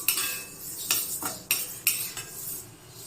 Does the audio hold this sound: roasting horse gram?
yes